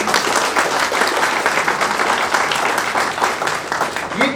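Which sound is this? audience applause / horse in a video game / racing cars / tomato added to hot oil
audience applause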